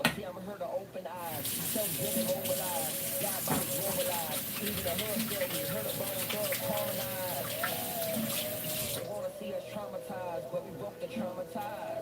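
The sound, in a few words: rinsing hands under running tap water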